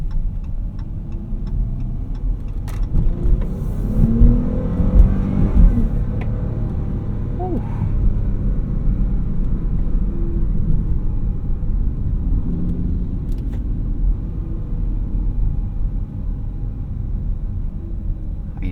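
A 2017 Dodge Charger with a V6 engine, shifted into manual mode, accelerates in a steady rumble heard from inside the cabin, with engine and road noise continuing throughout and a brief swell midway, plus a short exclamation from an occupant.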